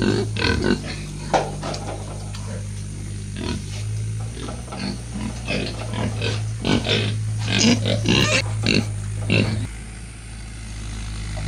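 A white pig grunts and oinks in short, irregular bursts at close range while being fed, over a steady low mechanical hum, with no talk.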